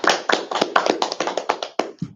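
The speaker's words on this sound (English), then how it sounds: "Let's give him a round of applause." A small round of applause for a sign language interpreter at a COVID and air quality briefing: a few close hands clapping in a loose, uneven rhythm, about a dozen sharp claps that stop abruptly.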